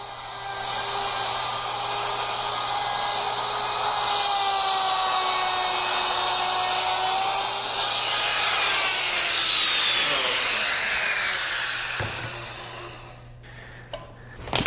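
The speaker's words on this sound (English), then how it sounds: "always make sure that the router is held firmly to the fence" A hand router cuts wood along a fence with a loud, steady high-pitched whine that holds for several seconds, then drops in pitch as it spins down and cuts off, leaving near quiet.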